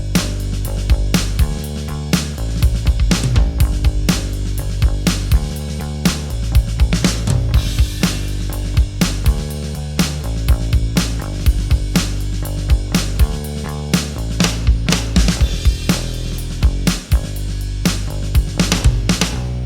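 Logic Pro 11 Session Drummer plays a manual drum pattern: a steady, busy kit groove with punchy kicks, snare hits and cymbals over a bass line, loud and continuous for about twenty seconds with no voices.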